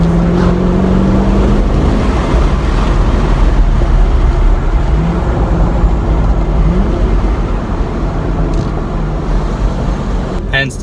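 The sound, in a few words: 2015 Chevy Camaro SS LS engine exhaust growl at high RPM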